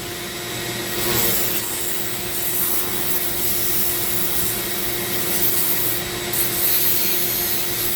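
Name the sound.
sanding a zebra wood ring with 220 grit sandpaper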